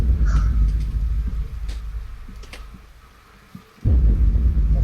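Steady rain and rumbling storm ambience from the game Minecraft fill the scene, with a brief drop in intensity before the downpour swells back, loud and close.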